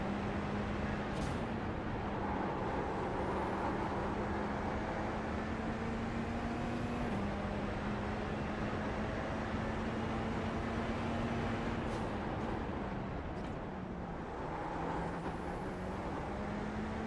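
A Radical race car engine in the iRacing simulator at Zolder drones steadily throughout, its pitch rising and dropping through gear changes while the car runs the circuit.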